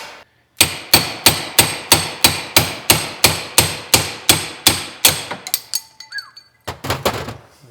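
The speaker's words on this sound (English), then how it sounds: "So first thing is to pound out the old bushings and put the new ones in." Hammer blows pound old bushings out of a 1930 Ford Model A steering spindle on a dropped axle, about twelve loud, evenly spaced metallic strikes, then a pause and a few more quick hits.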